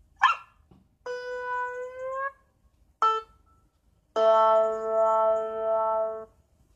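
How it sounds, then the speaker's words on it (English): A little dog barks in a few separate bursts, with a short yip followed by longer, clear, tonal barks that sound close and loud, with no one talking. "It's little dog Fido."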